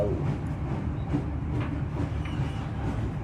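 Aboard the Menoreh train rolling through Pemalang, a continuous rail rumble with soft clickety-clack from the carriage wheels holds at an even level.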